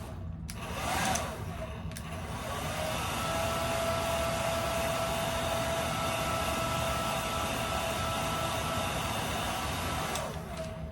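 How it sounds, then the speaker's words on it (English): A handheld blow dryer drying glued-down hair for a 30-inch ponytail whirs steadily and close for about ten seconds, a constant airy roar with a faint whine, starting and stopping abruptly with no talking. "And then you want to dry it with a blow dryer."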